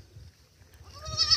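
Small goats bleat faintly at close range, a short rising bleat near the end over low background rumble.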